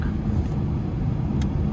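A 2026 BMW 540i xDrive accelerates hard on the road, a loud, steady, deep engine rumble heard from inside the cabin with broad road and wind noise and no pause.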